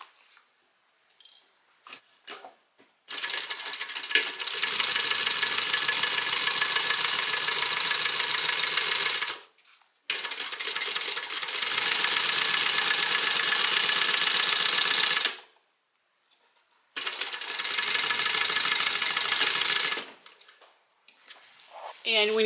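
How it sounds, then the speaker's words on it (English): A sewing machine stitches a tote bag seam in three long, steady motor runs separated by brief pauses, loud and close, with a little speech at the start and end. "I'm going to go ahead and stitch."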